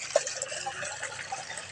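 Water pours into a basin set out for ducks on a farm, a soft, steady splashing trickle that stays fairly quiet and continuous for under two seconds.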